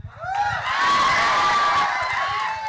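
An audience at the BABY movie trailer launch cheers and shouts loudly, with high whoops and a sustained roar of voices that rises and holds, somewhat close and dense.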